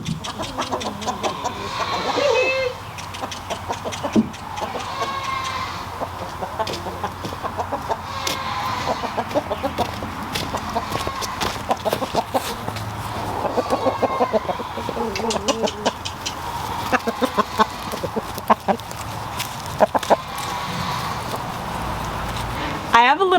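Backyard chickens and young chicks cluck steadily through the whole stretch, close and moderately loud, with a person talking over the flock.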